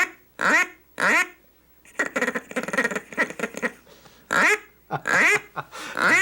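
An 8-year-old boy imitates duck quacks with his voice, sounding short nasal quacks in bursts and a rapid chattering run of calls, close and fairly loud.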